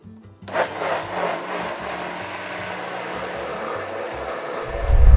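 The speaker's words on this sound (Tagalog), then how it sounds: "Into the blender." A kitchen blender blending seasoned shawarma sauce whirs steadily for several seconds at close range, a continuous motor roar with a low rumble building near the end.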